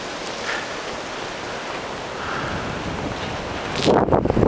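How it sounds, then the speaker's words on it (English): Wind blows steadily through a snowy Madison, Wisconsin blizzard, a broad whooshing roar that surges into a sharp, louder buffet at the end. "Maybe a little more wind gust."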